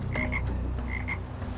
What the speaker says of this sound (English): I'm hearing some croaking coming from the bush over there.